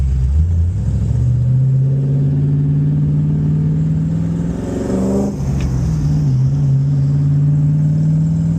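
An LS V8-swapped Hyundai Genesis Coupe engine drones loudly and steadily from inside the car while driving, its pitch climbing under acceleration, dipping briefly as it shifts, then holding level again.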